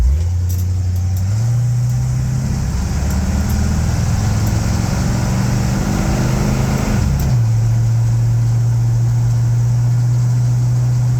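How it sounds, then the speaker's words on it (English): A 1955 Willys Wagon with a 350 turbo automatic transmission idles loudly and close, the engine note stepping and shifting as the gear selector drops into drive, then settling into a steady low idle. "Nice crisp shifting 350 turbo automatic transmission"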